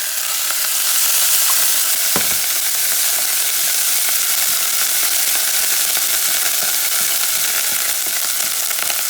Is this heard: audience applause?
no